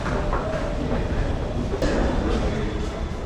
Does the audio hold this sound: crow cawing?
no